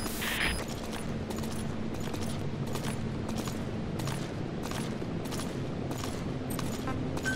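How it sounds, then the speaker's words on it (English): Enemy gunship machine gun fire in Metal Gear Solid 5: The Phantom Pain, a steady run of rapid repeated bursts holding a constant loud level throughout, with a brief sharper crack near the start. "A single burst from his machine gun can cut a man in half."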